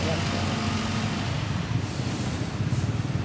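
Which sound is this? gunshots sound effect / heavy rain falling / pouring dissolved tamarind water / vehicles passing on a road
vehicles passing on a road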